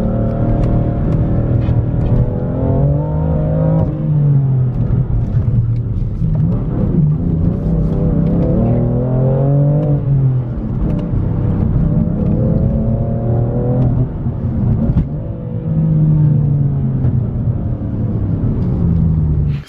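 A car drives along a winding highway with traffic, its engine rising and falling in pitch as it accelerates out of successive turns; the engine drone is loud, close and steady, with no talking.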